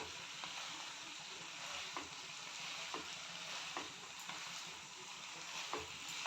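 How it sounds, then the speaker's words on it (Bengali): Jackfruit pieces sautéed with mustard paste and spices, a quiet, even sizzle broken by regular soft scrapes of a spatula every second or so, no talking. "কিছুক্ষণ এভাবেই সর্ষের সঙ্গে কাঁঠালগুলো কষিয়ে নিতে হবে।"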